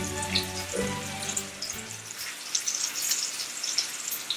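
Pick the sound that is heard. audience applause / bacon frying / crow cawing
bacon frying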